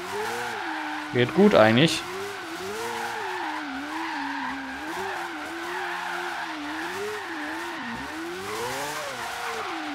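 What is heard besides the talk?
car drifting and tire skidding in video game Forza Horizon 3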